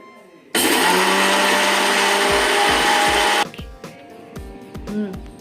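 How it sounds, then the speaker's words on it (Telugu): Mixer grinder roaring loudly for about three seconds while blending chillies, cumin, coriander seeds, onion and garlic, then stopping abruptly into a run of rhythmic knocks and rattles as the jar settles. "ఇప్పుడు వీటిని ఒకసారి మిక్సీ పట్టుకుందాం"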